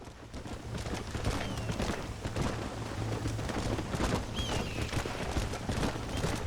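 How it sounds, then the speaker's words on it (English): Horse hooves in the Red Dead Redemption video game, a rapid, continuous clatter of galloping hoofbeats over a steady low rumble, moderately loud throughout. "There must be a button here for slowing down the horse."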